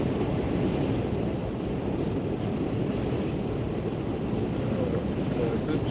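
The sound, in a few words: wind while driving VW e-Up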